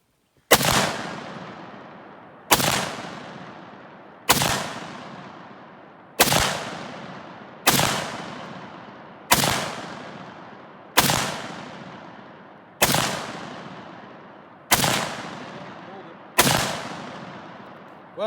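An M1941 Johnson rifle fires ten evenly spaced, loud, sharp shots nearly two seconds apart, each crack trailing off in a short decaying boom.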